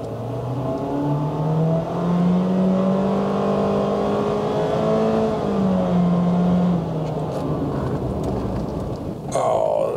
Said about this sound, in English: Little full throttle demonstration here for you so you can see what to expect in terms of engine noise.